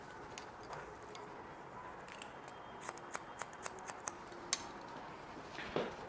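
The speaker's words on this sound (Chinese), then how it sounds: "把那边所有的头发拉到导线的位置上修剪" Scissors snipping hair during a short men's haircut, a series of crisp, close, fairly quiet cuts that cluster in the middle and come alone over a soft room hush.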